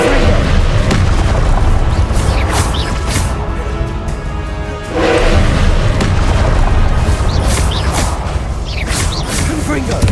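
Confringo blasting-spell explosions from Hogwarts Legacy, heavy booms bursting repeatedly at close range, with a brief lull midway before the loud detonations resume.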